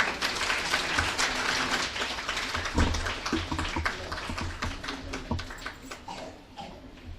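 An audience at a scholarship distribution ceremony welcomes a guest with steady applause, a dense wash of clapping that holds fairly even throughout and thins slightly toward the end.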